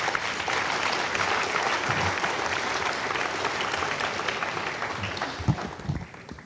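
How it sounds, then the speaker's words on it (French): Audience at a rocket launch event breaking into loud, dense applause that carries on steadily, then thins out with a few last claps near the end. "Mais applaudissez-les parce qu'ils le méritent."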